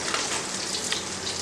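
Fenugreek seeds sizzle steadily in four tablespoons of hot oil in a pan, a close, continuous hiss with small crackles throughout, no talking.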